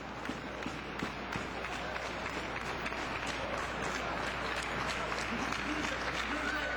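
Wrestling crowd at an indoor pro wrestling event, on their feet and cheering, a dense continuous roar with scattered clapping that holds steady throughout.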